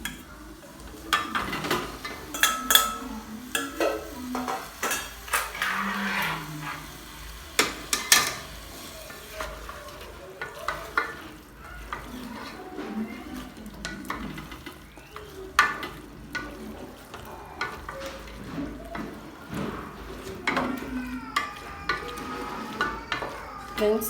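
Pork pieces sizzle and fry in a pan for a Swahili-style spice-free pork dish. The sizzling runs steadily throughout, with repeated scraping stirs and occasional clinks of the utensil against the pan, heard up close.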